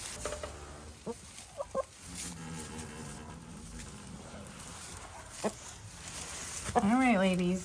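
Backyard hens cluck and murmur nearby in scattered short calls, with a louder burst of clucking near the end, while a person talks and footsteps patter in the yard.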